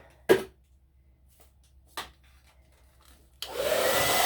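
A few sharp knocks and handling sounds come first, then a hair dryer switches on near the microphone and blows steadily and loudly to dry a handmade craft sign.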